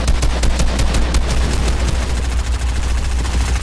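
Rapid automatic gunfire in Fortnite, a loud stream of sharp shots close up, densest in the first second and a half and then continuing as a thinner rattle.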